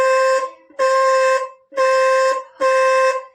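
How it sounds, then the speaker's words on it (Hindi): A loud electronic motorbike horn fitted to a bicycle honks four times in a regular rhythm, each blast lasting about half a second, with brief gaps between them. "जैसे ही इसे टच करेंगे हमारा हॉर्न यहाँ से बजेगा, ये देखिए।"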